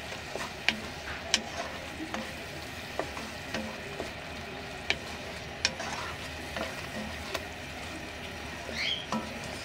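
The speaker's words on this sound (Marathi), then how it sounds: "आता हे मीडियम गॅसवर व्यवस्थित मसाले एक 2 ते 3 मिनटं परतून घेऊया." Spices for a smoky chicken curry stirred and fried in a pan over a medium gas flame, a faint steady sizzle broken by scattered sharp clicks and taps of the spoon.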